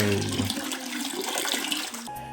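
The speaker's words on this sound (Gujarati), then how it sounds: "કુદરતી આ ઝરણાના પાણી દ્વારા જ શિવલિંગનો જળાભિષેક થતો રહે છે" Natural spring water pours steadily over a Shiva lingam, a close, continuous splashing gush that holds even and alone before cutting off abruptly near the end.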